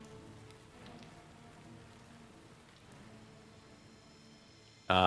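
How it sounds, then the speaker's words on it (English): Steady rainfall in the Hyrule Warriors video game, a soft continuous hiss of drops on surfaces with faint low rumble, ending in an abrupt loud burst of game noise. "Rain, rain, stay right here."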